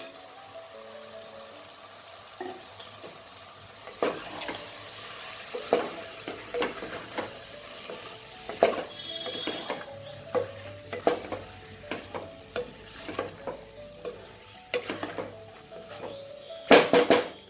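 Overnight-soaked chana dal being stirred in a frying pan, with repeated scraping strokes of a spatula over a soft sizzle, fairly close and steady.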